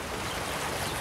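Sea waves heard from the shore as a brief, steady wash of surf noise, with no voices.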